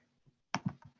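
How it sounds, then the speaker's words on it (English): A few quick keystrokes on a computer keyboard, one faint tap and then a close cluster of three or four sharp clicks in under a second, alone with no talking. "I'll type that in."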